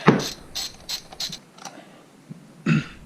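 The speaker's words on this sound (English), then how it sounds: "take my 10mm and remove this bolt" A ratchet wrench with a 10mm socket removes a bolt on a 2012 GMC Acadia engine: a quick run of sharp, close ratcheting clicks, then a pause and one more burst.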